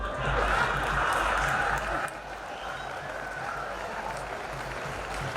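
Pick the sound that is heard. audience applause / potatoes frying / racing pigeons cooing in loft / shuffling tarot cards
audience applause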